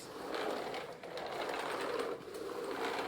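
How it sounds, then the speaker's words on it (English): A BISSELL Natural Sweep manual carpet sweeper is pushed across carpet and gives off a steady, soft whirring rumble from its spinning brushes, close by, with slight dips as the stroke changes direction. "The BISSELL is easier to push."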